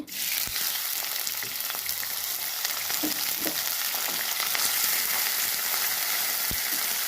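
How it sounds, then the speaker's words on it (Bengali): Chopped onion fries in oil with a loud, continuous close-up sizzle and a few sharp ticks and clinks from stirring, with no voice heard, while cooking aloo chechki. "তেল দিয়ে দিলাম, পেঁয়াজ কুচি"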